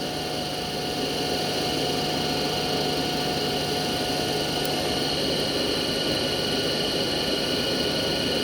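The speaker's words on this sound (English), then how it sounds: "So right now the motor is rotating at its rated speed." DC shunt motor running steadily at its rated speed of about 1500 rpm on roughly 220 volts, a constant, even hum and whine with a broad whirring hiss that holds level throughout.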